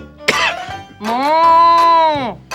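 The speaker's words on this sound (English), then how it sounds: "Oh, that's quite a cough." A sick cartoon character lets out a sharp cough, then a long, strained, wheezing hack that rises and falls over about a second and a half, close and loud.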